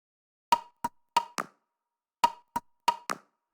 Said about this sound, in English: this is the sound of the percussion in the same time signature